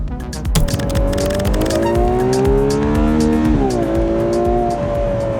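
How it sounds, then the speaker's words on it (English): A Ferrari 12Cilindri Spider's V12 engine revs loudly toward 9500 rpm and climbs in pitch, rising and falling through gear changes with a rough, throaty roar. "to make sure that this V12 sounds as epic as possible"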